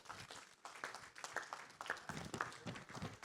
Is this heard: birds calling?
no